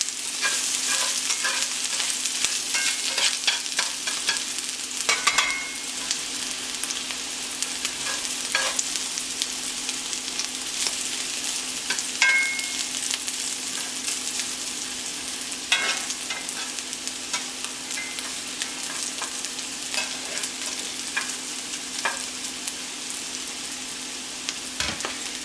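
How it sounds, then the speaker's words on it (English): Hashbrowns sizzle steadily in hot oil in a skillet while a utensil stirs and scrapes them in irregular clicks, close and continuous throughout with no talking. "Listen to that sizzle."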